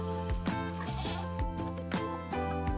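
A geep, the goat-sheep hybrid from a Minecraft mod, bleats in a few wavering, nasal calls, close and fairly loud over a busy musical game background.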